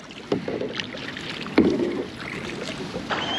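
An Envoy 106 tandem kayak is paddled along a small canal, with gentle splashes and paddle dips at irregular intervals over soft wind and water noise.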